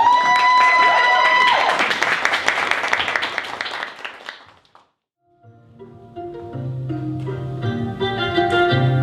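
A theater audience claps for several seconds. The applause fades into a short silence, and then tonal music begins.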